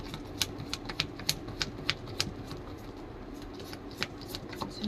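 Quiet, close crisp riffling and snapping of tarot cards being shuffled and drawn, a quick irregular series of light slaps over a soft background.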